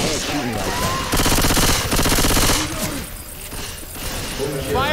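Rapid automatic gunfire in Left 4 Dead 2 rattles in dense bursts, loud and close, with brief pauses between volleys and game voices talking around it.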